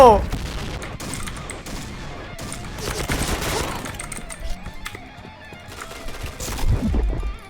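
A Honey Badger light machine gun fires in the shooter game Point Blank: rapid clattering bursts and scattered shots, loud and close, with a voice heard at times.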